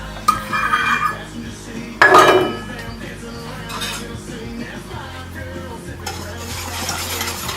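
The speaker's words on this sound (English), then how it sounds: "And thoroughly mix it till it's dissolved." A utensil stirs sugar into an apple cider mixture in a pot or bowl, with loud metallic clinks and scrapes against the sides, close and busy, followed by steadier swirling, with no talking.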